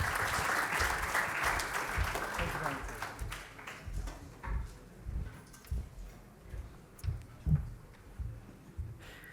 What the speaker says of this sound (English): Big round of applause, please, for Mariente.